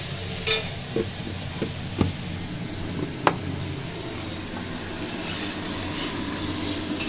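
Crab curry with taro sizzles and fries in a pan, a steady close hiss broken by a few light clinks and scrapes of stirring early on, with no voices.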